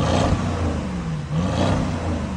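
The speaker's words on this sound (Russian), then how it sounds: "Мотор реально как-то очень грубо работает" A Mercedes CLS 6.3 AMG engine idles unevenly nearby, its steady low hum swelling and dipping in a slightly rough, uneven rhythm with no voices.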